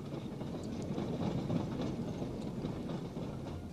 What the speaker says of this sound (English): they were brought to the working sites in special battery-driven trains